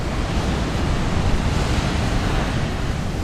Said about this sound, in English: we're by the ocean